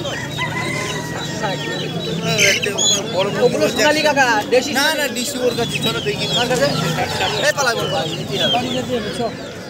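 Native chickens and roosters with ducklings at a busy Bengal animal market in Nadia, clucking and crowing repeatedly at close range amid crowd chatter and people talking throughout.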